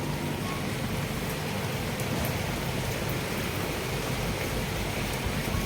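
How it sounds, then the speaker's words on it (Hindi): Heavy nighttime rain pours down in a steady, dense hiss of drops hitting surfaces, continuous and loud throughout with no voices. "रात के भाई 11:30 बज चुके और बारिश अभी भी नहीं रुकी"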